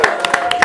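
A small crowd claps to welcome the K-pop group TNX, with several quick, close handclaps in a short, uneven burst.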